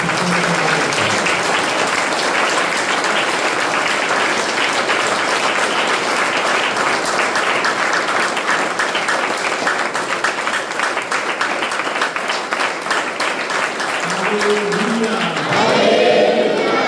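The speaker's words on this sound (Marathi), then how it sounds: "आपण टाळ्या वाजवत" Church congregation clapping in praise, a long, loud, continuous roar of many hands close by that holds steady for about fifteen seconds before a voice breaks in near the end as the clapping thins.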